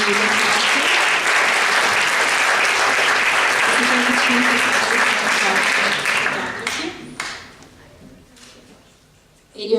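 Audience applause for the winner at the Prunola 2017 literary award ceremony, a dense, loud wash of clapping that tapers off near the end, with some voices mixed in.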